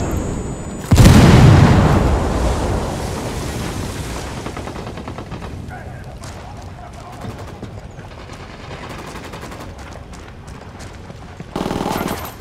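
A frag grenade goes off with a loud, close boom in Ghost Recon Wildlands game combat. The rumble decays over several seconds, followed by scattered rapid bursts of gunfire and a final sharp volley.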